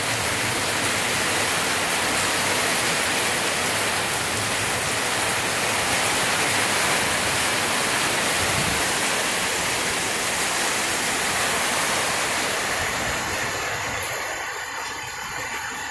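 Heavy rain pours down in a loud, continuous dense roar like a waterfall, steady for most of the stretch before easing slightly at the end, with no voices.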